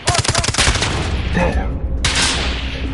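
Rapid bursts of automatic gunfire in the battle-royale shooter Call of Duty Warzone, loud and close, with a voice talking over the shots.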